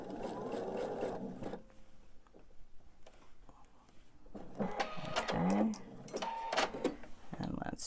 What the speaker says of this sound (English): So I'm going to go nice and slow and sew right where that point is.